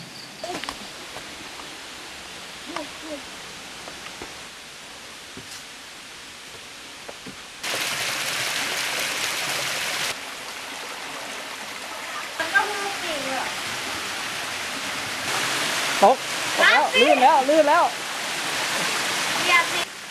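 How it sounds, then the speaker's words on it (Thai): Pha Phueng waterfall, running with little water in a shaded forest, gives a steady soft hiss of falling water that grows louder in patches, with people talking over it in the later part. "น้ำตกผาพึ่ง แม้น้ำจะไม่ค่อยเยอะ แต่บรรยากาศก็ร่มเย็น"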